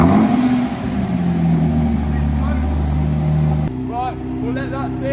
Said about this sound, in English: Start this up, see how she runs. Rev it to 2000 RPM for 50 seconds.